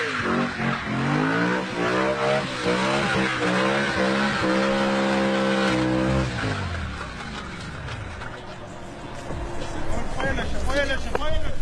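A BMW M3 revs hard during a burnout, its tires squealing in long wavering tones over a roaring engine, then the rev pitch drops and the scene turns noisier.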